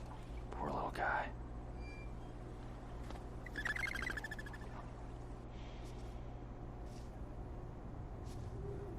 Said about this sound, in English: Alright, another bird.